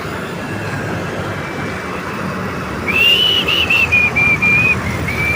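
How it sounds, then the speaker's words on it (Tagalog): An LRT train rumbles steadily as it departs under a bridge in Parañaque City, then a high shrill whistle sounds in a few short wavering bursts over the rolling noise. "Pumalis yung tren."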